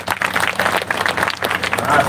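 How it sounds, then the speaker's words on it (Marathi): A crowd at a Marathi devotional discourse claps loudly on cue, an uneven, bursty patter of many hands close by, with some crowd murmur mixed in. "चला वाजवा जोरात आता टाळ्या."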